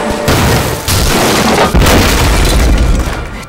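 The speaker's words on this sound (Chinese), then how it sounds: "小日本这火药太足了，咱们还没有见到人就一通炸" Bombs explode in a war-film battle, Japanese forces shelling the position: loud, continuous booming blasts and rumbling debris fill the whole stretch, with fresh heavy impacts landing about a second in and again near the two-second mark.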